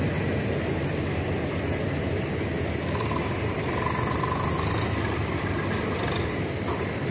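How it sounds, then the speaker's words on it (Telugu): Swaraj tractor engine running close by, a loud, steady diesel rumble that holds the same level throughout with no talking. "మన బండి కూడా వస్తుంది, మన ట్రాక్టర్ స్వరాజు."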